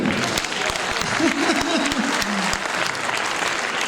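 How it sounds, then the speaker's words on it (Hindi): A festival audience bursts into dense, steady clapping that holds loud and close throughout, with a voice briefly audible through it. "जरा हमारे लिए तो ताली बजा दो भैया।"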